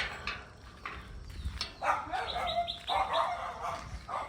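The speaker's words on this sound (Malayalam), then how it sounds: "പേപ്പർ കോറ് അവിടെ നിന്ന് കുരക്കുന്നുണ്ട്" A pet dog barks from a home yard near the gate in the morning, several sharp barks in irregular bursts at moderate distance, with faint background noise between them.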